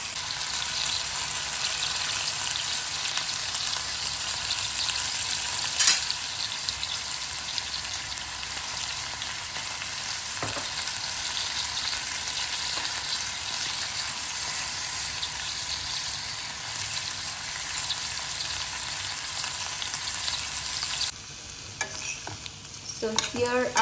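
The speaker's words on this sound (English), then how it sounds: "So all our veggies are in the pan and they're almost done." Mixed vegetables sautéing in a pan after salt, chili flakes, oregano and Italian seasonings go in, giving a steady, close sizzle with occasional stirring scrapes and clicks, running unbroken until it quiets near the end.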